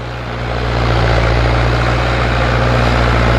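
A new Mahindra Arjun Nova 605 DI 4WD tractor engine idles close by with a steady low throb, settling into a constant drone after a brief rise at the start.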